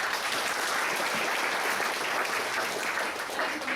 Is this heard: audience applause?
yes